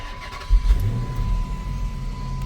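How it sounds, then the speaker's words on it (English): A Chrysler 300c engine cranks and catches with a low burst, then settles into a steady idle rumble, close by with a faint constant whine above it. "Let's turn the car on actually."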